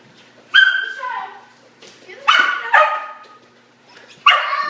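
A dog chasing shadows lets out four sharp, loud barks and yips close by, spaced irregularly with whiny tails between them and no other voices.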